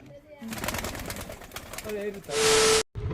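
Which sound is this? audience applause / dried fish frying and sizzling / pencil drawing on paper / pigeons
pigeons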